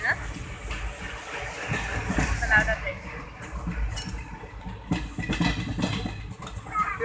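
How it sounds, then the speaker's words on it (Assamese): Inside a moving passenger train, a low rolling rumble with occasional metallic clinks and rattles runs steadily beneath people talking nearby. "আমাৰ ট্ৰেইনটোহে গৈ আছে"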